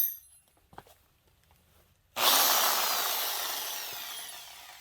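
A power drill fitted with a socket spins the electric start of a 1950s Wards lawn mower, a loud steady broadband whir that kicks in abruptly after a couple of quiet seconds of faint clicks and slowly fades.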